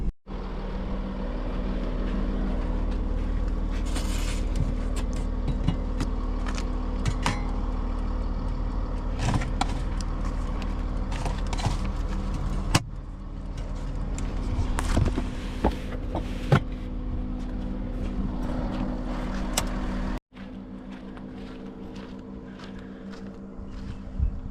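A vehicle cruising along a long gravel road toward the Roper River mouth, a steady loud engine and road rumble with rattles and knocks throughout, briefly cutting near the end before the drone resumes more quietly.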